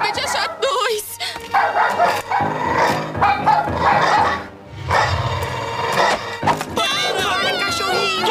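Robot dogs bark and yip repeatedly amid busy, cluttered noise and talking, the barks sharp and close with a somewhat electronic, synthetic edge.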